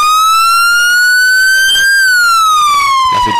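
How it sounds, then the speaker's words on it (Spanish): An ambulance siren wails loud and close in a steady rising and falling tone that fills the whole stretch, with no voices over it. "¡Una ambulancia!"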